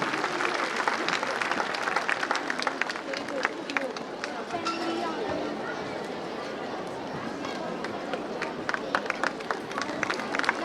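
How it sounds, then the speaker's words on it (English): Parents at a school annual day applaud their children, a dense continuous crowd clapping with sharp individual claps poking through and some murmured voices underneath. "parents, please put your hands together for your own children"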